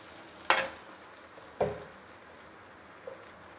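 Chopped tomatoes and salt dropped into hot oil in a pan, giving two sharp sizzling bursts followed by a smaller third, each trailing off into a soft, steady fry.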